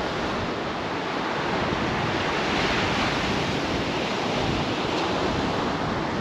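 Waves roll in on a beach with weed in the water, a loud continuous wash of surf with wind noise steady throughout and no voices.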